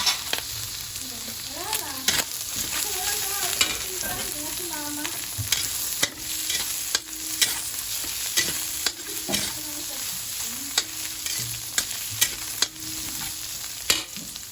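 Onions sautéing in a pan for a dish with bamboo shoots, with steady sizzling and frequent scraping stirs throughout; a faint voice hums or talks in the background early on.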